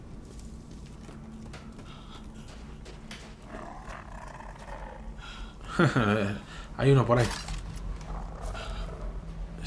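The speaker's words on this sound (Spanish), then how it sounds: "Está gruñendo, ¿eh?" A hostile creature in Resident Evil Village growls twice, mid-distance and fairly loud, a short guttural burst followed by a deeper one, over a low ambient game drone while someone talks.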